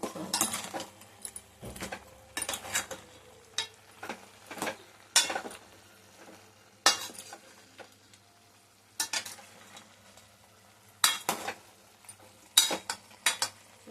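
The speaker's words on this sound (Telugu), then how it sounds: "అల్లం వెల్లుల్లి పేస్ట్ వేస్తున్నాం. కలుపుకొని" Country chicken curry being stirred after ginger garlic paste goes in, a spoon scraping the pot in repeated short strokes, close and fairly loud, with a soft sizzle underneath and no talking.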